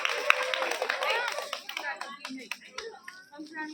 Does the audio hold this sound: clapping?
yes